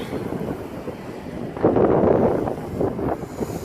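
Strong wind blowing across the microphone on Holly Beach, Louisiana, a loud, continuous rumbling buffet that swells into heavier gusts midway, with no speech.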